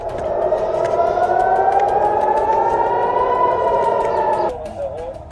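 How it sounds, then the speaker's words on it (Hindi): A loud air raid civil defense siren in Israel wails steadily, its pitch slowly rising, then cuts off abruptly near the end, leaving faint background noise. "पूरे इजरायल में हवाई हमलों से सायरन"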